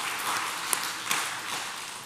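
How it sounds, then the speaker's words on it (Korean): Brief, fairly quiet applause from a church congregation during a Sunday worship service, a soft even patter of many hands lasting about two seconds with a couple of sharper claps standing out. "우리 권사님 위해서 우리 위로와 격려 박수 한번"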